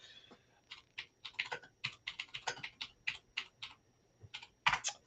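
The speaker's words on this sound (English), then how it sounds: "I'm just typing in chat." Keys clatter on a computer keyboard in a quiet room, a close, crisp run of irregular taps with short pauses between bursts and a final cluster near the end.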